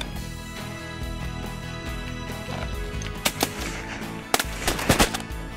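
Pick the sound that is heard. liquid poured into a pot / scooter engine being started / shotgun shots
shotgun shots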